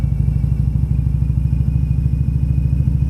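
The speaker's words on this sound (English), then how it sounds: "Off-roading on the Harley." A Harley motorcycle rides off-road on an Everglades trail, its engine a loud, steady, close throb with rapid rhythmic pulsing and light clattering throughout.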